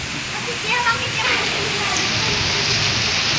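Heavy monsoon rain pours down in a torrent around children playing in it, a loud, dense, continuous rush of water close by, with voices talking and calling over it.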